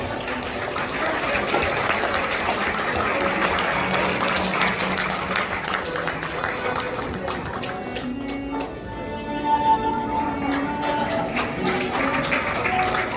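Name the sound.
wedding guests applauding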